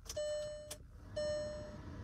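Two electronic start-up chimes ring out as a Volkswagen e-Delivery electric truck powers on, each a bright tone with a faint click, over a quiet low hum.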